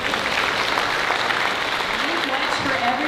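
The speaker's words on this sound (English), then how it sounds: "so we should all give her a round of applause" Loud, continuous clapping from a crowd at a post-secondary graduation ceremony in Wiikwemkoong, with a voice speaking over the applause toward the end.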